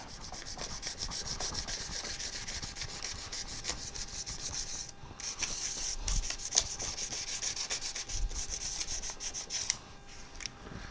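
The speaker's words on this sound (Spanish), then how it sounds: "Así que vamos a lijarlo" Sandpaper rubs back and forth across a surface being prepared before copper is applied, a steady close scratchy sanding run for about eleven seconds with brief pauses and slight shifts in stroke.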